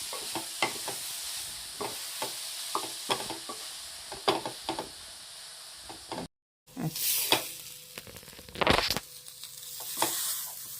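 Something frying on low flame in melted butter in a pan: a steady broad sizzle broken by regular spoon strokes scraping and stirring, with a brief dropout and a sharper scrape near the end.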